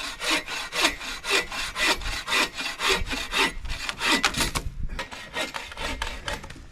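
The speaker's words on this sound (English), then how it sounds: "We have to get firewood, Hudson." A hand saw cuts firewood at a Yukon wilderness campsite with close, rhythmic back-and-forth strokes, about a dozen steady rasping pulls followed by a few quicker, shorter ones, with no voices over them.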